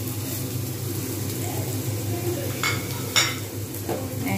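Spices frying in oil in a pan while being stirred in a home kitchen, a soft steady sizzle broken by a few sharp scrapes and clinks of the spoon against the pan.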